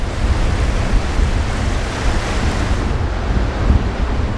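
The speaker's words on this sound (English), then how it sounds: "The tide they've been waiting for is fighting the wind, whipping the waves to a frenzy." Ocean surf whipped by strong wind against the tide, a dense continuous roar of waves and wind buffeting the microphone, loud and close with no clear breaks.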